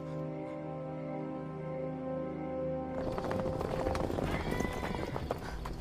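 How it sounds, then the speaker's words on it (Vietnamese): Several horses gallop through woodland in a Chinese martial-arts drama. A sustained tonal passage comes first, then loud, close clattering hoofbeats break in with a whinny, the pounding continuing to the end. "May mà ngựa của chúng ta nhanh, trước khi sương xuống rời khỏi rừng cây kia."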